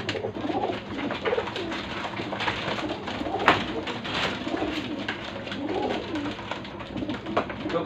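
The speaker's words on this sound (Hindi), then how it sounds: "बहुत सारे कबूतर आ चुके हैं गाइस" Pigeons newly bought from another country coo repeatedly inside a netted loft, soft overlapping calls close by with a few scattered flutters and no talk.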